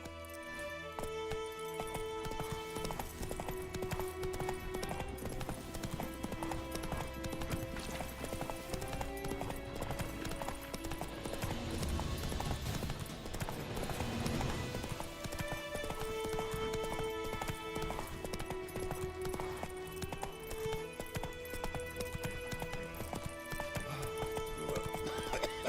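Roach the horse gallops in the Witcher 3 video game, a rapid, rhythmic clip-clop of hooves running continuously beneath a busy musical score, with a faint neigh.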